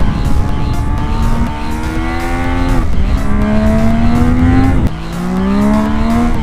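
A Zontes 703 RR motorcycle on a winding mountain road revs hard and close, its engine pitch climbing through several gears with sharp drops between shifts, loud and continuous.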